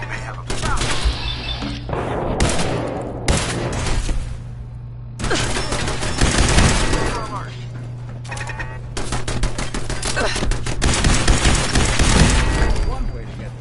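Turret gunfire from Fallout 4 rattles out in repeated automatic bursts, separated by short pauses, over a steady low hum, with game voices talking in between.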